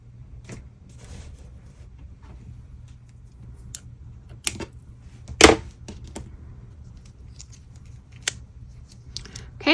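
Scissors snip crochet yarn, a few sharp, brief cuts scattered among soft handling rustles, one snip notably louder, all close and quiet over a low steady hum.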